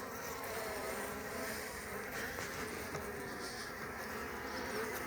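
A close, continuous swarm of honeybees at a hive buzzes steadily, a dense humming drone with no voices.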